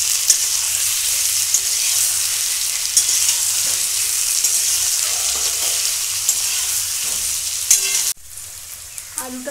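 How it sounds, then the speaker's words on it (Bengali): Potatoes and onions fry in a pan with a loud, steady sizzle and crackle that runs nearly unbroken, then drops abruptly to a quieter hiss near the end. "পেঁয়াজের সঙ্গে আলুগুলো ভালো করে ভেজে নেব"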